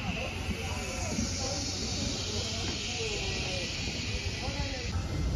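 Rain falls steadily on an umbrella at the Nami Island ticket office in Gapyeong, a dense, even hiss that runs without a break throughout.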